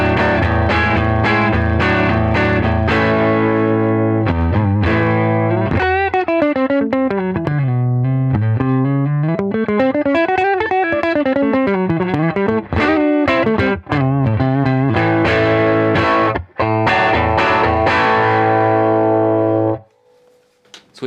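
An electric guitar plays through a Bugera V22 tube amp switched to half power, giving steady distorted chords and sliding melodic runs for about twenty seconds at full loudness, then stopping abruptly into faint hiss.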